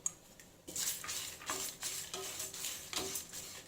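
Toor dal and urad dal dry roasting in a pan, with steady scraping stirs that rasp in a regular rhythm and a soft rustle of grains between strokes, close and moderately quiet with no talking.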